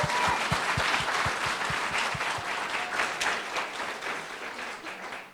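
A lecture audience breaks into a sustained round of applause, dense overlapping clapping that stays loud and full for several seconds before tapering slightly, with no one speaking over it.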